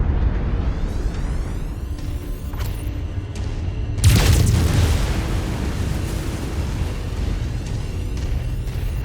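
A destroyed target blows up in MechWarrior 5: Mercenaries, a heavy boom bursting midway through over a constant low mechanical rumble of battle, with a few sharper impacts before it.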